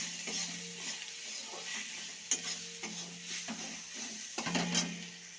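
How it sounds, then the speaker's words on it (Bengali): Ground coriander and cumin frying in a pan while being stirred, a soft steady sizzle with repeated scraping strokes of a spatula and a few sharper clinks against the pan. "এবার মশলাগুলো একটুখানি ভেজে নেবো ভালো করে।"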